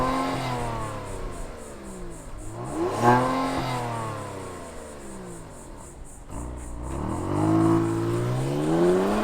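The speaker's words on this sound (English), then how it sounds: "Why don't we fire it up and hear if it makes any sound?" Kia Stinger GT2 sedan, 2023 top trim, with a twin-turbo V6 being started and revved: a loud, close engine sweeps up and down through several rev rises with harmonic whine, alone without talk.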